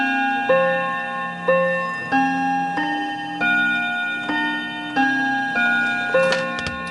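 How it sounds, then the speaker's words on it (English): A vintage Smiths Enfield wood-cased mantel clock rings its Westminster chime: clear, resonant bell-like notes struck one after another at a steady, measured pace, each ringing on, loud and close, with no talking. "So there you go, first Westminster chime."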